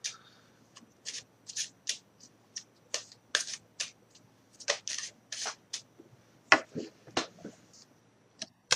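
Tarot cards shuffled by hand during a reading, a run of quick crisp riffles and slaps in short irregular bursts separated by brief pauses, close and fairly quiet with no one speaking.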